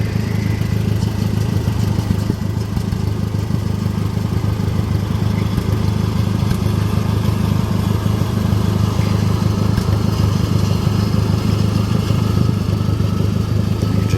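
D17 tractor engine running rough while baling hay, a loud continuous low rumbling chug with uneven clattering and intermittent sputter-like irregularities, close and unbroken throughout.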